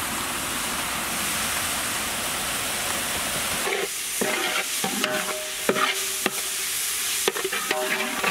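Ginger garlic paste fries with salt, turmeric and red chili powder in a pan, a steady close sizzle broken after a few seconds by scraping stirs and clicks of a spoon against the pan.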